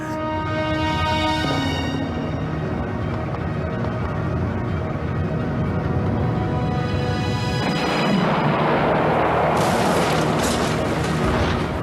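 A deep, roaring nuclear reactor explosion at Chernobyl rumbles through dense, dramatic music, swelling into a loud burst of hissing, crackling noise near the end.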